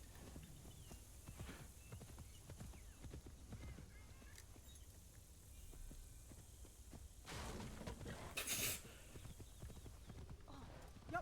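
Horse hooves clop and pound in the video game Assassin's Creed Shadows, a fairly quiet, steady run of hoofbeats across the clip with a brief louder burst near the end.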